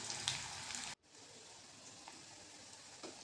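Onion and curry leaves frying in hot oil with cumin and mustard seeds, a steady close sizzle with a brief break and small pops, no voices.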